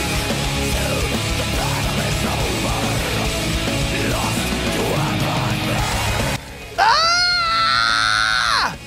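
A loud, sustained scream with wavering pitch bursts out after a noisy stretch of chaotic crowd-like voices and groans, rising sharply and holding for a couple of seconds before cutting off.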